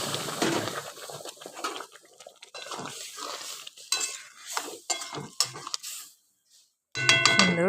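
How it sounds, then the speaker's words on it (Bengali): Boiled red lentils with Malabar spinach greens are poured into a pan of fried onions and turmeric, then stirred, giving soft scraping, clinking and sloshing sounds, fairly quiet, with a brief pause before stirring resumes. "এবার তার মধ্যে সিদ্ধ করে রাখা শাকের ডাল ঢেলে দিলাম।"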